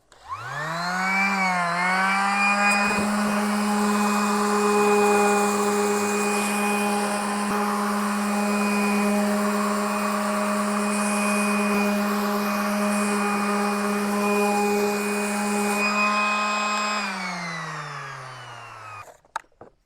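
A power sander with coarse grit works an end-grain wooden cutting board. It spins up with a rising whine, holds a steady, loud, tonal buzz for about fifteen seconds, then winds down, with no speech.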